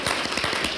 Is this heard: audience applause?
yes